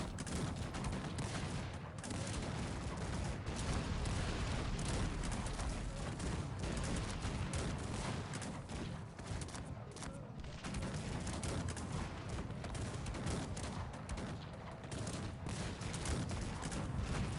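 Dense, continuous musket gunfire from a battle in the strategy game Cossacks 3, with overlapping volleys and shots forming a steady roar throughout, and a voice faintly present underneath.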